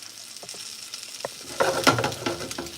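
Chorizo pasta sizzling and frying in a pan, with a soft crackle that swells into a louder burst of spitting and stirring near the end.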